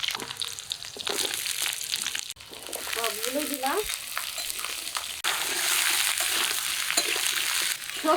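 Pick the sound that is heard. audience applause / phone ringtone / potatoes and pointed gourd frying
potatoes and pointed gourd frying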